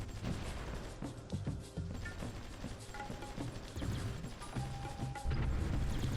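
Artillery bombardment in the strategy game Supreme Ruler Ultimate, a dense, continuous rumble of distant explosions and crashing impacts with scattered mechanical clanks, steady and moderately loud throughout.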